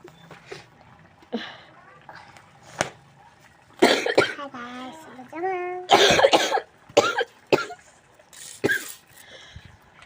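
Several harsh coughs with a sore throat break out among people talking nearby, loud and close, with pauses of quieter chatter between the bursts.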